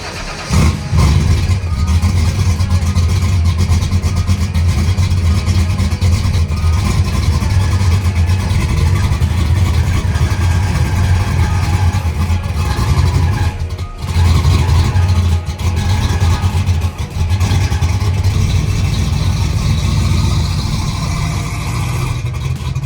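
A rowdy performance car engine roars loudly and steadily while moving, with a deep, rough rumble and brief dips and surges of revving throughout.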